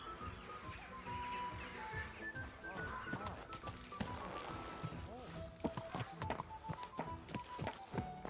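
Horse hooves clip-clopping in Kingdom Come: Deliverance II, a steady rhythmic trot heard at moderate distance beneath music and other game sounds, with a voice speaking over it.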